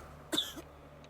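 A single short, sharp cough from a sick boy in the video game God of War (2018), followed by a brief softer breathy trailing sound, heard alone with no speech.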